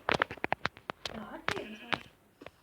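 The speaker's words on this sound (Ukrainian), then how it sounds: "Дуже голосно коні кричать." Horses shriek loudly in a video game, strained high cries rising over a couple of seconds amid clicky in-game sounds and talking.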